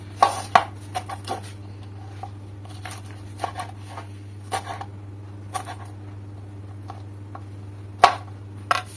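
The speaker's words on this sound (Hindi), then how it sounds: "और साथ में हमने कटिंग करनी है हरी मिर्चों की।" A knife chops green chillies on a board in a steady run of crisp, close taps with short pauses, over a constant low hum and no talking.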